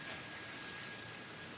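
Steady rain falls outdoors, a continuous even hiss of drops on surfaces with no other sounds, moderately faint and unbroken throughout.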